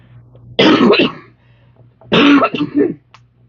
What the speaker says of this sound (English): excuse me with my cough